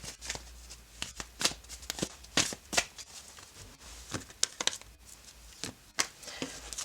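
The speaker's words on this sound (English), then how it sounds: "I will shuffle a little bit more." Crisp riffling tarot card shuffles in quick bursts, several shuffles in a row with brief pauses, close and fairly quiet.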